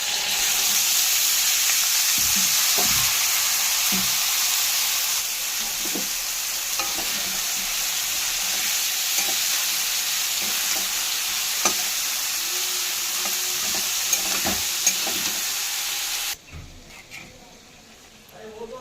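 Peas tipped into a hot frying pan, sizzling with a steady bright hiss, punctuated by scattered clicks and scrapes of stirring, the sizzle fading sharply near the end; a voice speaks faintly over it.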